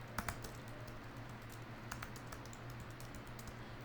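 Typing on a computer keyboard, with quick irregular key clicks close by over a low steady hum.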